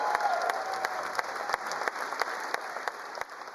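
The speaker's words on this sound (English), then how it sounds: "it was a standing ovation in the House chamber" A standing ovation in a state House chamber fills the room: dense, loud applause from a large crowd with a few sharp individual claps standing out, holding steady before easing slightly at the end.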